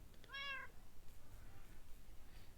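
A single cat meow from the Minecraft video game, heard alone, short and fairly clear against a low rumble of background noise.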